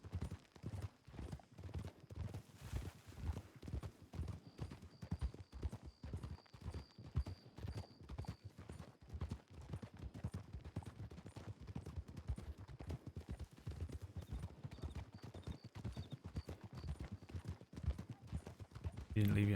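A horse canters along in a video game, its hoofbeats thudding in an even rolling rhythm for the whole stretch, with faint tones and a person talking over it now and then.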